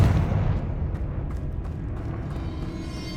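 A Confringo spell blast in the Hogwarts Legacy video game, a deep rumbling explosion that hits loudly at the start and then fades into a low, lingering roll.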